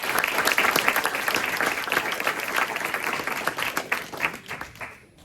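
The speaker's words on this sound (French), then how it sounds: "Un tonnerre d'applaudissements," An audience at a talk bursts into a thunderous round of applause for a guest speaker, dense close clapping that holds strong for several seconds and then tapers away.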